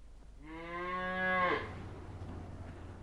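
Cattle on an intensive beef farm where the animals are housed indoors: one long, loud bellowing moo close by, swelling and then cutting off, followed by a low steady hum.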